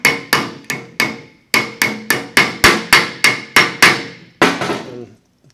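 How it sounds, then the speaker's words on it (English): Hammer driving a broken bolt extractor into a bolt hole, a dozen sharp metallic strikes in a steady rhythm with a short pause partway through, close and loud with no talking. "So we're going to go ahead and drive our extractor back into the hole."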